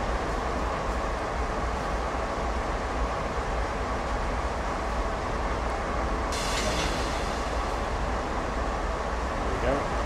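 Freight cars of a CSX heavy-haul train rumble and rattle steadily in Train Sim World, a continuous broadband clatter of wagons rolling with a brighter hiss entering partway through; a voice speaks faintly underneath.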